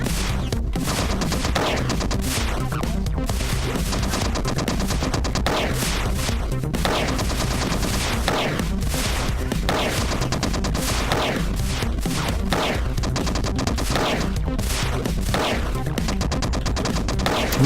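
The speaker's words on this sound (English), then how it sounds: "I'm just gonna spam shoot." Player gunfire in the video game Deep Ones, a rapid, continuous run of loud shots fired in quick repeated bursts.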